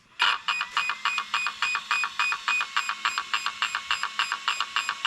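An RC car's electronic speed control, in an Arrma Typhon 3S, beeping during calibration with the set button held: a fast, regular series of bright, close electronic beeps repeating steadily throughout, alone with no talk.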